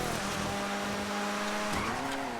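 A rallycross car in the video game GTA 5 roars around a junkyard track, its engine loud and steady with a rising, shifting pitch and a brief tire squeal, no voices over it.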